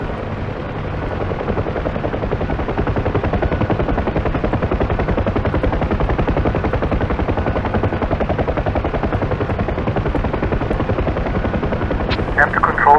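A Bell UH-1 Huey helicopter's rotor thumps in a rapid, continuous beat throughout in the DCS flight simulator, loud and close, with a voice talking over it and a brief sharp burst near the end.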